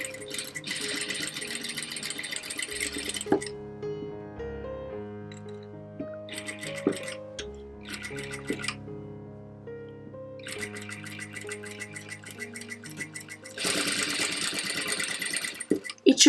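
A domestic sewing machine runs a straight stitch in a few steady mechanical bursts, whirring for several seconds at a time and pausing in between, with tonal background music throughout.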